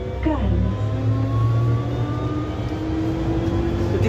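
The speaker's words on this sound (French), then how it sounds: "Le défaut moteur, il est pas du tout cool." A faulty train engine in a transport video game gives a loud, continuous mechanical drone with rising and falling whining tones, like revving under strain, sounding steadily throughout.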